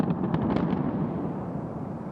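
Explosive charges in a planned implosion bring down Units 11 and 12 of the Avon Lake power plant, a rapid burst of sharp distant blasts giving way to a long, heavy rolling rumble that slowly fades.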